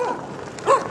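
A small puppy gives a couple of brief high yips, the louder one near the end, fairly close.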